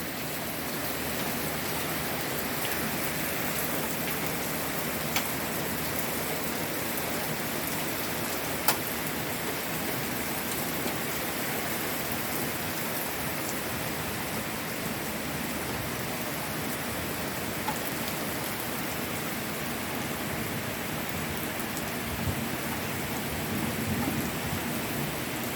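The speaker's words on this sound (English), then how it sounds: "Look at the hail from the back porch." Hail and heavy rain pour down during a thunderstorm, heard from a back porch, as a dense, steady hiss with occasional sharper hailstone clicks throughout.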